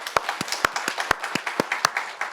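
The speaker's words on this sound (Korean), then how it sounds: "유원이와 지아 세 사람이 이 어른 예배에 참석한 것을 환영하는 마음에서 박수 한번 쳐주세요." Congregation in a Korean church service clapping in welcome, a rhythmic run of about a dozen evenly spaced, crisp claps, close and clear with no talking.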